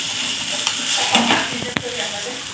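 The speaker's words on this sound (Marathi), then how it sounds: "हे आपण सर्व मिक्स करून घेऊया।" A spice mixture with turmeric sizzles in a pan for a Maharashtrian patodi rassa bhaji, stirred with quick scraping strokes and a few sharp clinks of the spoon against the pan.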